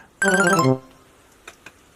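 A mobile phone ringtone plays a loud, bright melodic burst of under a second, followed by quiet and two faint clicks.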